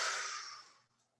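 A single deep exhale during a core-and-stretch breathing exercise, a soft breathy rush that fades out over about a second, close and alone.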